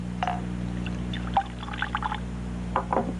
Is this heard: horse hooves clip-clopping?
no